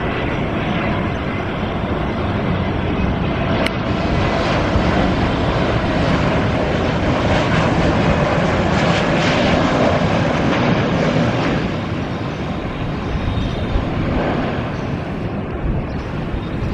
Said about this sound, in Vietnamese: có một chiếc máy bay của hãng Vietjet Air đang chuẩn bị hạ cánh xuống đường băng 25R sân bay quốc tế Tân Sơn Nhất